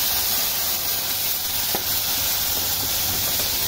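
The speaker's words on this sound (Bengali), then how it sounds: "এখানে আমি দিয়ে দিব পেঁয়াজ বাটা।" Onion paste sizzles steadily in a hot pan as the base for a Bengali koi fish bhuna, a constant close frying hiss with faint stirring scrapes and no talking.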